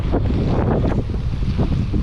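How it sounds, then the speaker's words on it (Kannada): Wind and choppy waves at the Tungabhadra dam reservoir backwaters, a steady broadband roar with buffeting wind noise on the microphone and no voices, continuous throughout. "ಅಲೆಗಳು ಹೆಂಗೆ ಯಾವ ಥರ ಇದೆ ಅಂತೇಳಿ ಇಲ್ಲಿ ಸಖತ್ ಡೇಂಜರಸ್ಸು"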